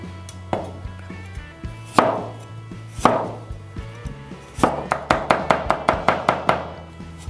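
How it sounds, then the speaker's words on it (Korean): A knife chops and minces vegetables, including lemon peel and carrot, on a cutting board. Several separate heavy knocks come first, then a quick steady run of close, crisp chops. "또 같이 다져주시면 됩니다"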